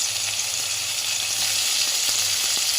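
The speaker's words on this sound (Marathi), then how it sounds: "मी एका कढाईत थोडंसं तेल टाकून पनीर भाजून घेत आहे" Paneer frying in a little oil in a kadhai, a steady close hiss of sizzling with faint occasional stirring.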